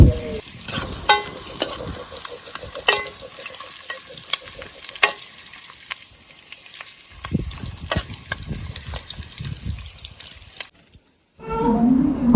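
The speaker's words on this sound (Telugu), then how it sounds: "అలాగే ఆనియన్స్ ఎర్ర వేగంత దాకా కలుపుతూ ఉండాలి" Onions sizzle and fry in oil in a pan for a Rayalaseema-style goat head curry, with steady crackling and repeated scraping stirs close by for several seconds before a brief silence.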